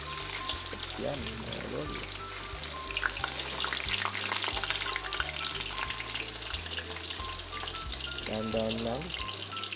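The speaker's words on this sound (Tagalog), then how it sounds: "ipiprito na natin mga idol" Tilapia fish frying in hot cooking oil, a steady, dense sizzle and crackle that runs throughout, with a voice talking over it now and then.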